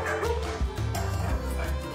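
Soft, low American Bully mixed-breed dog vocalizations—short yips and whimpery barks—repeating close by over a continuous background hum.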